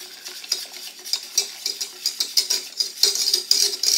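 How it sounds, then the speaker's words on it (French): A spoon scrapes and stirs through thick caramel in a pan for a frozen chocolate-caramel log cake, a quick run of rhythmic swishes and clinks, close and fairly quiet, with no voices. "Alors, on mélange bien comme il faut."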